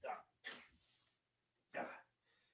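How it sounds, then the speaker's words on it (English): A dog gives three sharp barks indoors, two close together and then one after a pause, near and fairly loud against a quiet room. "Okay, stop barking at yourself."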